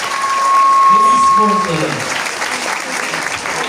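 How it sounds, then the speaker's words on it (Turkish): An audience applauds the parents' group at a school chess tournament award ceremony, clapping swelling under a voice over a PA with a brief feedback tone, then continuing alone at a steady level. "Velileri alkışlayalım bakalım."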